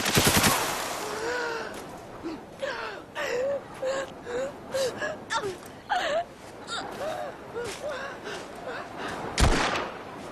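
Gunfire in the war shooter Spec Ops The Line amid a tense battle, with sharp shots and bursts scattered through strained, gasping voices and shouting, one heavy blast standing out near the end.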